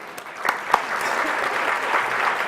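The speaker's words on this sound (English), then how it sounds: "This never works, it just keeps on clapping." Audience applause at a gala event fills the moment with steady, fairly loud clapping from a crowd, with a few sharper claps standing out near the start.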